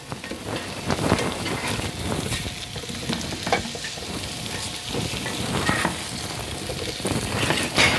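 Cubed sweet potatoes fry in melted butter in a skillet, giving a steady close crackling sizzle with stirring and scraping noises throughout, no talking.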